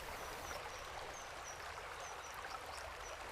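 Steady broadband rush of a river stream flowing beneath a bridge on a dippers' river, constant and close, with faint high bird chirps scattered above the water noise.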